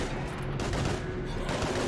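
Dense, continuous gunfire from several weapons rattles without a break during a heavy firefight against Husks in Mass Effect 3, loud and close throughout.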